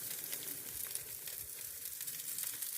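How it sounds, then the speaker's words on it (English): Black treacle bacon slices sizzle steadily on a barbecue, a soft, even crackling hiss with faint pops, fairly quiet and with no voices over it. "So let's get these pieces of bacon on the barbecue."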